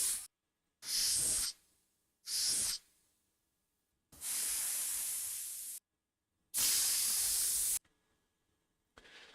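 An AI-generated air pressure cleaner effect, meant as smoke and dust for a game, gives several loud, separate hisses of differing length, each starting and cutting off abruptly with silence between them.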